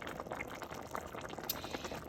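Meat and potatoes simmer uncovered in a kettle, a quiet close bubbling and popping with soft irregular blips of liquid.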